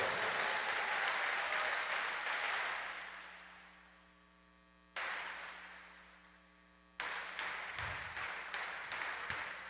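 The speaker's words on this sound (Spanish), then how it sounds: "Alguien que le dé un fuerte aplauso al Señor de la gloria en esta hora" A church congregation applauding during a sermon, a broad wash of clapping that swells and tapers off under a steady electrical hum, then returns in short bursts.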